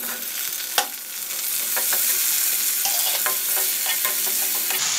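Tomatoes fry with masala for a fish curry, giving a steady, close, loud sizzle with scraping stirs and a sharp clink near the start.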